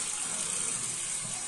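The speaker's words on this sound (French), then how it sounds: "Moi, je rince à l'eau froide." Cold tap water runs steadily for face rinsing during a skincare routine, a close, continuous, even flow with no talking.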